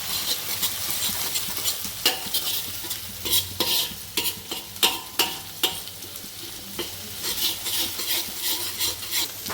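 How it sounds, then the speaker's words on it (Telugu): Onions and green chillies frying in a pan for street-style fried rice: a steady sizzle broken by repeated scraping, stirring strokes of a utensil, close and fairly loud, with no talking. "సో ఇట్లా 5 to 10 minutes బాగా ఆనియను, పచ్చిమిర్చి అన్నీ బాగా వేయించుకోవాలి మనం."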